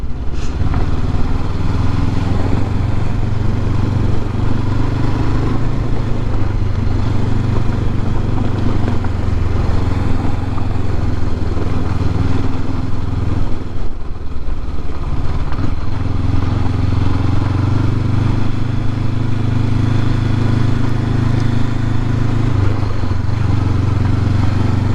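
A Honda CB500X motorcycle engine hums steadily while riding on back roads, loud and close with constant wind rush, easing briefly midway before pulling on again.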